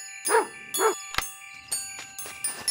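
Cartoon-style dog barking in a children's bedtime story app with farm animals: two short barks followed by lighter clicks and chimes, clear and close with no talking.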